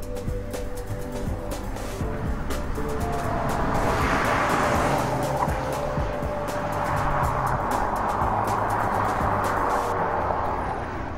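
Nissan GT-R R35 and R34 Skyline GT-R with its 2.6-litre twin-turbo straight-six driving, a steady engine drone with broadband road and tyre roar swelling and easing as the cars pass, continuous throughout without talk.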